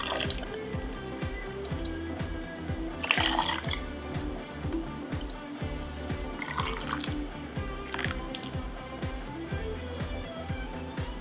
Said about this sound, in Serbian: I sada u tegle sipamo sok od paradajza.